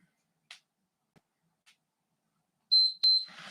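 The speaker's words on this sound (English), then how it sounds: "We're going to stand up when it beeps" Two short electronic beeps, loud and close, follow a few faint taps in near silence; a brief rustle comes after.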